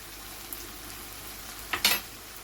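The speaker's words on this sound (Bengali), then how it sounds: "নুন দিয়ে ভালো করে ভেজে নেব, এই টমেটোগুলি সফট হয়ে যাবে।" Tomatoes fry with salt in a pan, giving a soft, low sizzle, with a brief scrape of a stirring utensil near the end.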